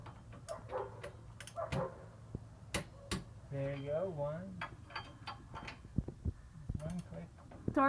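A torque wrench tightens the wheel hub bolts on a 2004 Toyota Sienna LE in a garage, giving a few sharp close clicks among scattered mechanical ticks while people talk and a dog makes noise.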